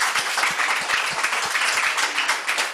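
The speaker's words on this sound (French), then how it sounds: "on peut vous applaudir ce soir" An audience in a church applauds together, the crisp, close, steady clapping filling the room without any talk.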